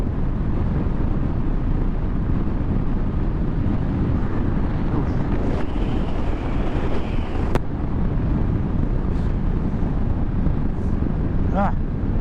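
A 2023 Royal Enfield Classic 350 single-cylinder motorcycle held at full throttle in top gear around 70, its steady engine drone and exhaust thrum blended with heavy, continuous wind rush at the microphone throughout.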